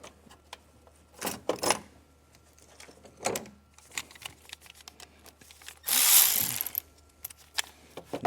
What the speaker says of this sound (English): now we're gonna tighten this bolt here